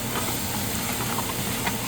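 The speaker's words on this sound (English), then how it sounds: "we're going to throw in our onions" Chopped onions sizzle in hot grease left from searing a pot roast, a steady broadband hiss with faint crackles running continuously throughout, close and fairly loud with no talking.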